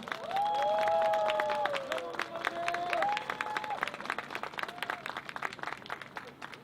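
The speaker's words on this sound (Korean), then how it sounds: "큰 박수를 부탁드립니다" Crowd applause for a traditional percussion group's performance at a March 1st peace rally in Daejeon: dense, steady clapping that swells early and then slowly thins, with a few tonal squeals and cheers mixed in.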